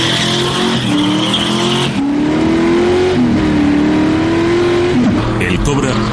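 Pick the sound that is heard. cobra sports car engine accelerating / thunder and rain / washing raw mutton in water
cobra sports car engine accelerating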